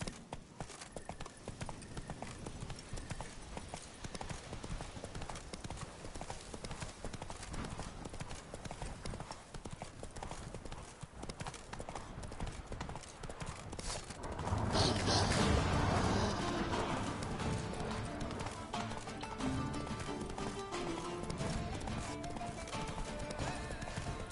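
Roach the horse gallops in The Witcher 3: Blood and Wine with steady rhythmic hoofbeats close by, and a louder rush of clattering and impact noise comes in midway.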